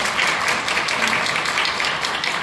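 A church congregation breaks into a brief, dense round of applause, many hands clapping together at close range for a couple of seconds.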